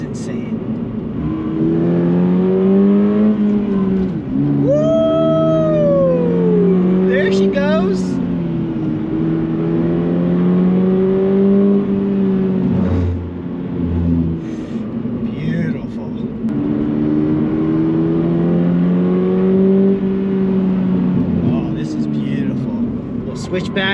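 A 2022 Subaru BRZ engine pulling hard in third gear, its droning note rising and falling through repeated accelerations, heard from inside the cabin with someone talking over parts of it.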